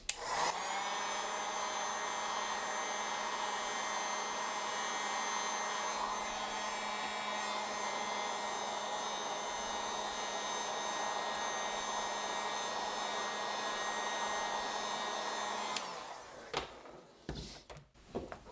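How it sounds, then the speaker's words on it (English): A heat gun blows steadily at close range for about fifteen seconds, a constant whooshing roar, warming the top side of a 3D printed honeycomb-infill part for thermoforming, then shuts off with a few clunks. "So I'm only going to heat it up from the top side."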